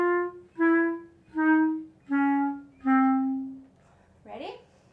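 A clarinet plays five slow, sustained notes stepping downward in a chromatic scale, each separated by a short gap, followed by a brief voice.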